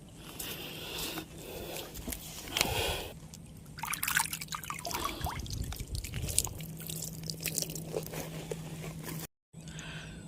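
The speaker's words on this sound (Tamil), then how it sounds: "ஸோ தண்ணி ஓடிட்டுருக்கு பார்த்துக்கோங்க." Water runs and trickles steadily with irregular splashes and drips, moderately close and heard alone, before a brief cut near the end.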